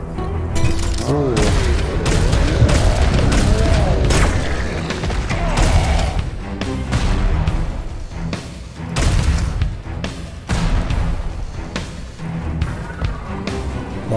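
Rocket launcher blasts in the video game Serious Sam 4, a continuous loud barrage of booming explosions and gunfire with mechanical clatter, dense and relentless over the whole stretch.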